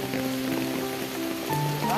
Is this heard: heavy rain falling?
yes